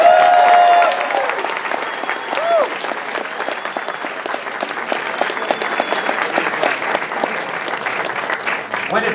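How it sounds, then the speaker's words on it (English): An event audience gives a big round of applause for the kids who turned up at a panel, steady dense clapping with some crowd noise running throughout, loudest at the start and sustained to the end. "Big round of applause for all the kids who turned up."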